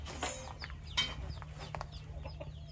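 Hens cluck in a farmyard, including a pure Japanese-breed hen, giving short irregular clucks and chirps close by over a low background hum.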